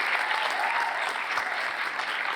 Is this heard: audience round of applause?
yes